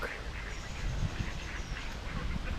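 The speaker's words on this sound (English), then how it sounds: "That's a bossy duck." A duck quacks in short, harsh bursts close by, mixed with other fowl calls including moorhens and background chatter.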